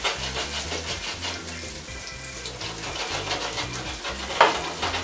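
Breaded oat flake schnitzel frying in hot oil in a pan, a steady dense sizzle and crackle with the pan being shaken around, close and continuous with no talk.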